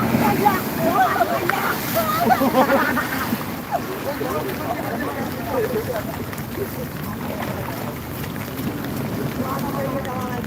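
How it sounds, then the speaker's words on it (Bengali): Sea waves rolling onto a shore during a storm where fishermen launch boats, a continuous loud roar and wash mixed with heavy wind buffeting the microphone, with a voice talking over it. "এই ঢেউটা দেখুন এই ঢেউটা দেখুন"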